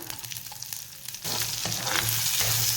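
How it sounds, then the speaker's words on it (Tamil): Sliced onions dropped into hot oil already holding fennel seeds and bay leaf for Chettinad pepper chicken thokku, the gentle crackle of the oil jumping abruptly to a loud, sustained sizzle partway through. "இந்த எண்ணெயில் வெங்காயத்தை போட்டுக்கலாம்"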